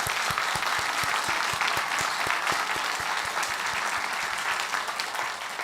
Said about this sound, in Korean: 우리 샬롬 찬양대 다 같이 한번 격려의 박수 한번 하실까요?